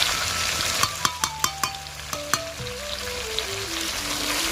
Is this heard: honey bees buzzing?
no